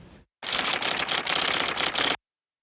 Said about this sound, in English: The clatter of typewriters in the Bendlerstrasse came to a halt